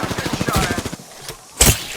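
Rapid gunfire in the battle royale shooter Apex Legends, a fast burst of shots followed by a quieter gap and one louder crack near the end, with voice chat partly underneath.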